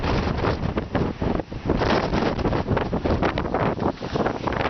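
Strong storm wind at Hawksbill roars and buffets the microphone, a loud continuous rush with gusting surges and brief dips, no voices.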